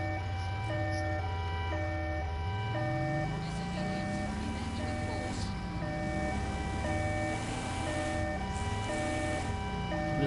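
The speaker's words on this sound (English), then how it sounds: "The siren though, look at it." Wailing siren from the Watch Dogs: Legion video game, rising and falling continuously over game music and ambient noise, fairly loud throughout.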